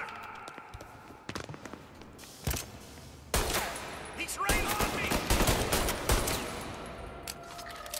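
Pistol fire in Mafia: Definitive Edition cracks out in scattered sharp shots. Single reports come first, then denser volleys, some loud and close, with faint voices in the background.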